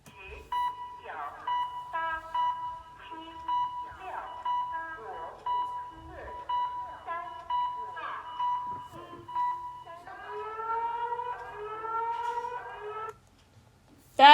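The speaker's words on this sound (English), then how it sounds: "China's EAS alarm." China's Emergency Alert System alarm: a steady electronic tone with short repeated beeping bursts, shifting near the end to rising stacked warbling tones before cutting off, fairly quiet and heard alone.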